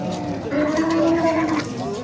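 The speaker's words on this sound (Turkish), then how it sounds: "İki tane kısır inek." Cattle at the Afyon Çayırbağ livestock market, including two barren cows. One loud, drawn-out moo rises close by over a busy market hubbub with faint voices.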